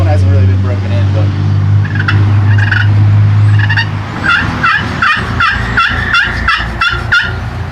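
A slate turkey call being scratched to imitate turkey gobbles, loud and close: a low hum gives way to a quick run of sharp, rhythmic yelps and clucks repeated in fast bursts.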